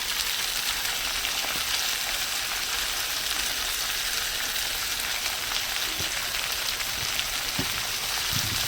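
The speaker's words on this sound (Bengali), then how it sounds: "যতক্ষণ আদা কাঁচা লঙ্কার গন্ধ যত না চলে যায় ততক্ষণ আমি ভেজে নেব" Ginger and green chili frying in a pan, heard as a loud, constant hissing sizzle close by, with a few faint knocks near the end and no talking.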